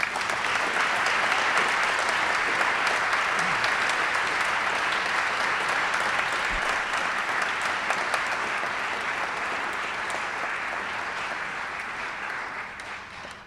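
Audience at a university athletics hall of fame induction ceremony gives a long, steady round of applause, a dense roomy roar of clapping that holds evenly and tapers slightly toward the end.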